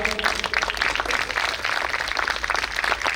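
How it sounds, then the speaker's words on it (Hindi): An audience at a devotional poetry recital gives loud, sustained applause, a dense crackle of many hands clapping continuously for about three seconds. "जोरदार तालियों से अभिवादन कीजिए"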